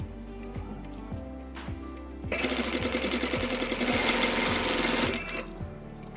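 A sewing machine stitches using its presser foot, starting with a steady mechanical tick and then swelling into a loud, rapid, close whirring run for a few seconds before dropping back to the slower ticking.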